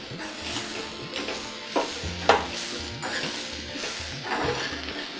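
Green pea filling with turmeric being sautéed in a pan, a soft sizzle broken up by repeated scraping and stirring strokes and the odd clink of a utensil against the pan.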